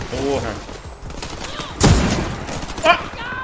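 Sniper and rifle fire in the video game Warface, with a sharp, loud shot near the middle and another smaller burst later, over male gamer chatter and background game noise.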